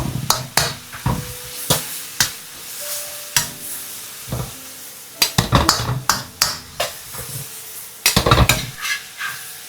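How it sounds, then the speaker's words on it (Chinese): Eggs and green beans stir-fried together in a wok, with quick metal spatula scrapes and clanks over a steady sizzle of hot oil; close and lively, no talking. "將炒好的雞蛋放回鍋中，繼續翻炒30秒"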